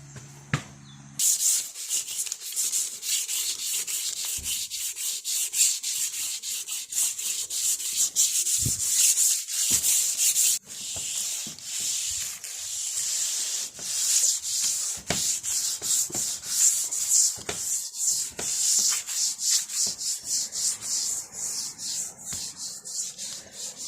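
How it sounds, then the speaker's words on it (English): Boat gelcoat on a 26 ft Regulator being wet sanded by hand, a steady close scrubbing rasp in rapid repeated strokes that runs continuously with brief pauses, no talking. "Just wet sand this by itself"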